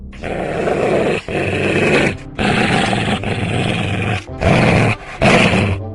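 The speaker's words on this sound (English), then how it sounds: "don't let these dogs harm us" Deep, sustained growling from several dogs, loud and close, rolling in long rumbling bursts separated by brief pauses, with no talking.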